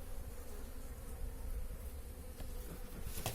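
Bees drone continuously around an opened hive during a routine colony check, a close, dense buzz holding steady throughout with a few sharper individual passes.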